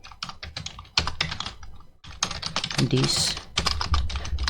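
Rapid typing on a computer keyboard while writing a paragraph of HTML page content, with dense clicking keystrokes close up throughout and someone speaking briefly over them.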